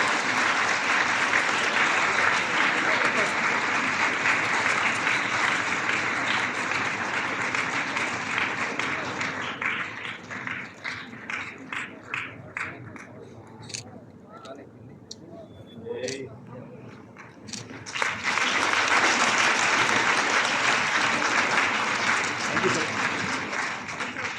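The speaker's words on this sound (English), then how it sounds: "All of us to show the women power by clapping hard, loud, strong." Audience at an international women's conference at Osmania University claps hard and loud, a dense sustained roar of applause that thins midway and then surges back to full strength.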